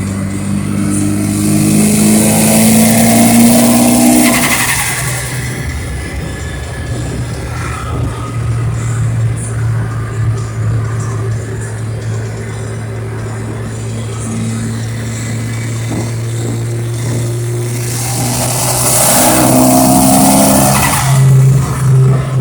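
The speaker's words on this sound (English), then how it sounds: "I just want to get a recording of the sound because Hayden hasn't heard the turbo" A Mitsubishi Galant VR-4 turbo engine revs up loudly near the start, its pitch climbing as the turbo spools, then settles to a steady idle rumble before a second rising rev toward the end.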